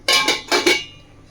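A lid set over a cooking pot of fish curry with cucumber and potato, a few quick metallic clinks and scrapes close by, fading out after about a second.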